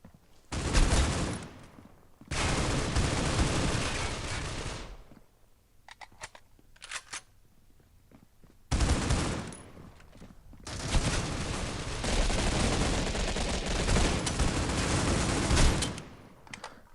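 Rifle fire from an AK in the mobile shooter Critical Ops comes in loud, sustained bursts, two long volleys separated by a quieter gap with a few sharp isolated clicks and shots.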